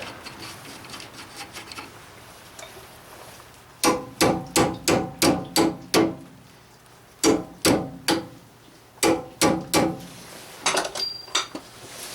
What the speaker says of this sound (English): Just gonna tap this over a bit.